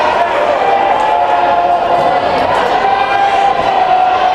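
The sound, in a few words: crowd cheering at a high school volleyball match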